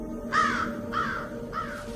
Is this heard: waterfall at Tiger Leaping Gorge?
no